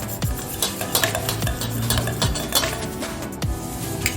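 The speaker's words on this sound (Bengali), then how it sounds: "খুব ভালো করে মিশিয়ে নিলাম।" A spoon stirs a mixture in a bowl while making homemade yogurt, giving steady close scraping with repeated light clinks against the bowl's side.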